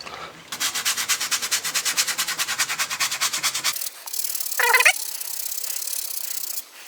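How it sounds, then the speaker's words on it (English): A pad reconditioning brush scrubs a wet polishing pad loaded with cleaner, fast rhythmic back-and-forth bristle strokes, then a steadier hiss with a brief squeaky burst, close and loud. "I'm going to use a Pad Reconditioning Brush to agitate the surface of the polishing pad to loosen all that caked in polishing residue"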